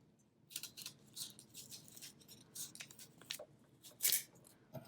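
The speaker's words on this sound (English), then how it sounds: "And now we're going to cut away our inside." Scissors snipping through paper while a paper heart is cut out, heard up close as a series of short, crisp cuts at an uneven pace, fairly quiet, with no talking.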